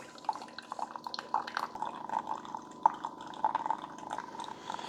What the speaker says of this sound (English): We're going to do 8 ounces. So it brews like a normal coffee.